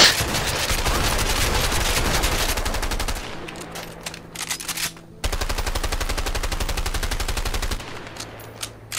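An MP5 submachine gun fires in the video game A Way Out as rapid automatic bursts, loud and close. A long continuous stream is followed by shorter clipped bursts with brief gaps between them.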